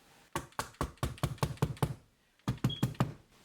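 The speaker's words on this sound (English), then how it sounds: "I don't use this as a real hammer, but I'm just hitting rubber." A hammer taps rubber and plastic pegboard anchors into place, a close series of sharp, evenly paced knocks, about eight in a row, then a short pause and four more, with no talking.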